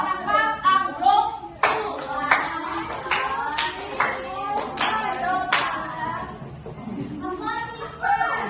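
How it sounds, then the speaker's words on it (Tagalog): Children in a classroom group clap several times in sharp bursts, mixed with young voices chattering and calling out nearby. "Bigyan ng limang palakpak ang group"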